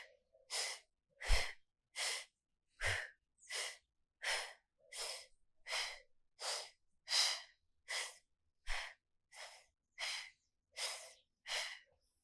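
Slow, deep breathing during a yoga core brace, about fourteen even breaths in steady rhythm, close and clear with no talking over them.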